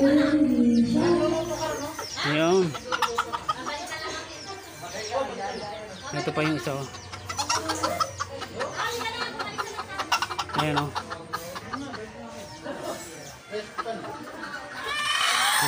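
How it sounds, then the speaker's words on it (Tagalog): Small bonsai bantam chickens clucking and chattering close by, their calls scattered under a person talking for most of the stretch. "Tawag dyan eh, mga bonsai manok."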